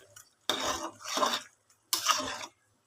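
Three bursts of a spoon scraping and clanking against a metal cooking pot as chicken soup is stirred, close and fairly loud with short pauses between.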